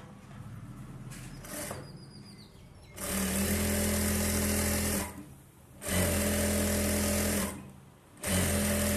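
A tailor's sewing machine runs through a pot neck blouse lining in three long, loud motorised bursts with brief stops between, preceded by quieter handling noise.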